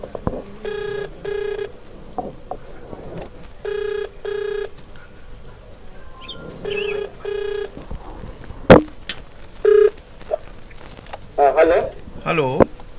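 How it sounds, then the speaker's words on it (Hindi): Series of telephone keypad tones as a number is dialed on a phone, several bursts of steady beeps with brief gaps, with a voice talking in between and a short tap partway through. "तो बिल्कुल ये नंबर डायल हुआ है 9431822102"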